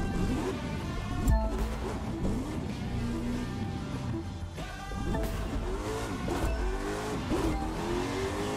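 Engine revving from a car in a drag race in The Crew 2 racing game, a loud continuous motor drone with rising and falling pitch sweeps, brief gear-shift breaks and a sharp thump near the start.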